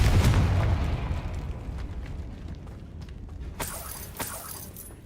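A Confringo blasting spell from Hogwarts Legacy explodes with a loud shattering boom that decays into a low rumble, with a few sharp pops and crackles ringing out later.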